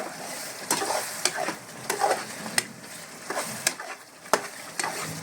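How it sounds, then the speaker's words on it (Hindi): Chicken with spices and cashew-almond paste is mixed in a pan, a steady low sizzle punctuated by sharp, repeated spoon scrapes and taps against the metal, close by and with no one talking. "और अच्छी तरह से मिला लेंगे। एक अच्छा सा मिक्स दे देंगे इसको"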